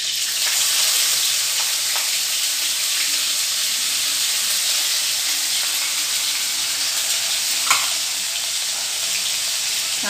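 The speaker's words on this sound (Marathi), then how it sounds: "छान परतून घ्यायचं 1-2 मिनिटं" Bay leaves and ginger-garlic-chili paste frying in a pan give a loud, even sizzle that runs steadily throughout, broken by a single sharp tap of a utensil near the end, with no voices.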